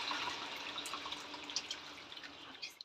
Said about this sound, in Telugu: ఇప్పుడు చింతపండు పులుపు యాడ్ చేసుకుందామండి.